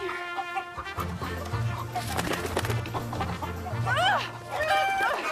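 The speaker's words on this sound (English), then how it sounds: "Come here, chicken." Chicken clucking in short repeated bursts close by, mixed with someone speaking and coaxing in between, with other bird calls rising near the end.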